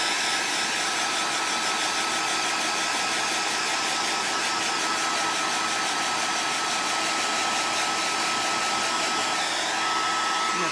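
A hair dryer blows continuously while heating mascara, a loud steady whooshing hum close by with no break, no voices over it.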